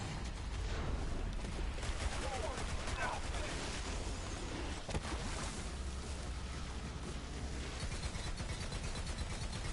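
Rapid pistol shots from the video game Borderlands 3 crackle through a dense, chaotic mix of game effects, explosions and background noise, sustained and loud throughout.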